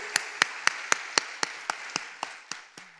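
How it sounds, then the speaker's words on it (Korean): Congregation at a Full Gospel church revival service clapping in a slow, even rhythm, about a dozen sharp claps spaced evenly, fading slightly toward the end, with no talking over them. "우리 하나님께 영광의 박수 올립니다."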